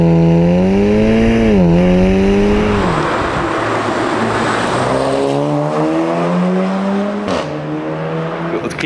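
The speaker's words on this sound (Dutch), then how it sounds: "Akrapovic uitlaten." A Volkswagen Golf engine revs hard through an Akrapovic exhaust, rising and falling in pitch with a loud, raspy roar that settles into a throaty drone, close by.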